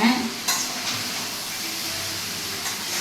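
Food sautéing in a pan as it is stirred until its moisture cooks off, with a steady close hiss of sizzling broken by a few sharp scrapes and clinks of the utensil.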